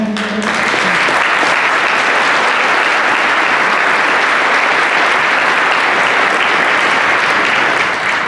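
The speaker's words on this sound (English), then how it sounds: "I have to stop myself from applauding because I'm not allowed to applaud" Audience applause fills a special town meeting in Scituate, a dense, steady roar of many hands clapping that holds at full strength throughout with no talk over it.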